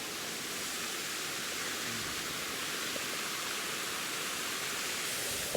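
Waterfall in Rajasthan, a steady broad rush of falling water heard from some distance, even and unbroken throughout with no talk.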